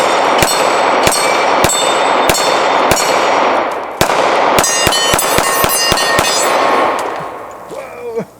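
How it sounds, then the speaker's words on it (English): An X-Carry handgun fires on a range: about six loud, sharp shots at a steady pace, then a faster string of closely spaced reports, with ringing echoes that fade at the end. "Let's shoot it again."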